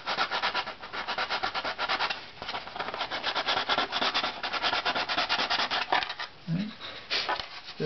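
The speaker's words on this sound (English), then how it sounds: "this is 150 sandpaper, doubled over, and I'm just going to narrow it down a little bit in that area" Folded 150-grit sandpaper rubs against a violin's wood in quick rhythmic strokes, close and steady for several seconds. It produces a dense scratchy hiss that briefly pauses near the end.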